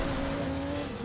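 Racing video game car upgraded to the top of A class, its engine holding a steady, loud drone with a faint tire hiss through the short stretch, no voices.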